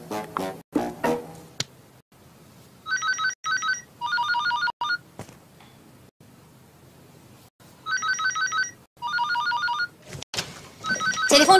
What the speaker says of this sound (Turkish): Telefon çalıp duruyor.